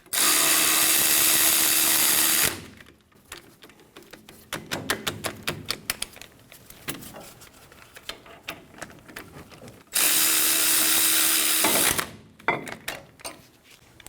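A power tool snugs down bolts on a 2005-2015 Toyota Tacoma wheel hub, with two loud sustained whirring bursts separated by rapid clattering impact hammering and lighter rattles in a workshop.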